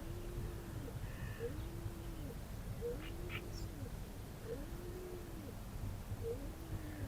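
A pigeon coos in a steady repeating pattern, roughly one call every second and a half, close by in an outdoor city spot by the water, under a constant hum of background noise; a few faint chirps from other birds join in.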